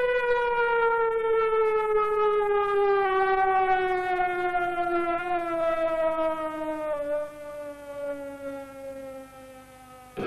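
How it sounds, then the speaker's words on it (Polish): A siren used as a strike signal wails loudly in a long, steady tone that slowly falls in pitch over about ten seconds, heard alone. "Słyszałam, jak sygnał strajku, dosłownie tą syrenę, to łzy w oczach miałam."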